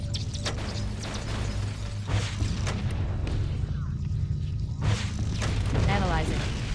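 Booming game explosions from a Halo level set on the Maw, detonated at a fusion reactor, rumble over a dense low mechanical drone with sharp bursts near 2 and 4.8 seconds, while game voices talk in places.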